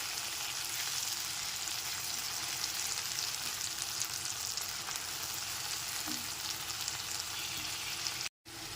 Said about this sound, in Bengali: এর মধ্যে দিয়ে দিচ্ছি একটা টমেটো বাটা টমেটো বাটাটাও খুব ভালো মতো একবার মিশিয়ে নিতে হবে